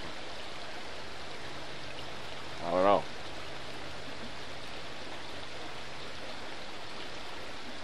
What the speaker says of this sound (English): Just listening to the water.